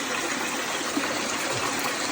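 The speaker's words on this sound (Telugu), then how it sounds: "ఇవే మనకి కింద వాటర్ ఫాల్స్." Water pouring and rushing steadily through the dark Arwah cave in Meghalaya near Cherrapunji, small waterfalls inside the cave during rain, a constant broadband wash with no voices.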